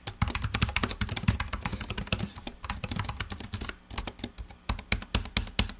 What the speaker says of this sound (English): you get a nice clicky sound as you're typing on it